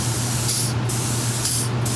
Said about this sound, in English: This machine, this is a European machine. I'm pretty proud to have it. This is not a machine you typically find in a shop this size. It only does one thing. It sprays glue.